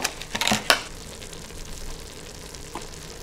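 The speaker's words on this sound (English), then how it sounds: "I'm just going to stir this into the pork mixture that's in here." A spoon stirs miso paste into a pork mixture inside an Instant Pot, giving a quick cluster of scraping clacks at the start, then one soft scrape later over a quiet background.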